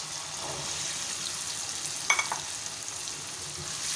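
Whole green chillies and boiled chickpeas go into a hot pan for chole salan, giving a steady soft sizzle with a brief louder splutter and stirring clatter midway.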